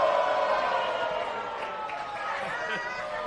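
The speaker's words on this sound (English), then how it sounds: "you hear the crowd here with those welcome back chants" A wrestling crowd at a live match chants in a dense, continuous roar of many voices, with rhythmic welcome-back calls swelling through the arena as a commentator speaks over it.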